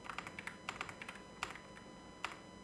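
Computer keyboard typing at close range, a quick run of light key taps with a few louder isolated strokes, entering a search term in video-editing software, with no voices.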